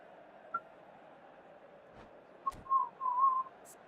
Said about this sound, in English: the whistle's gone, presumably for offside